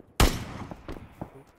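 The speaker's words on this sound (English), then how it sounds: "these guys shooting at him" Gunfire in PUBG on Xbox One X, one sharp loud shot followed by a few fainter, scattered shots trailing off, with no talking.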